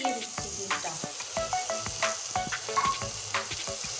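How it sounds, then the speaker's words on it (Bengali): Rui fish roe frying in hot oil in a pan, a steady close sizzle with crackling pops and occasional spatula scrapes and stirring clinks throughout. "এবার সুন্দর করে ভেজে নেব।"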